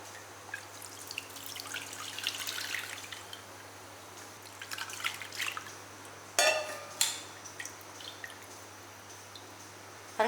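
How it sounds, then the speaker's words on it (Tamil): Soaked tamarind water dissolved and poured through a strainer, a faint close trickle and dripping with a few sharper splashes partway through, no speech. "கரைச்சிட்டு இதை நல்லா வடிச்சிடலாம்"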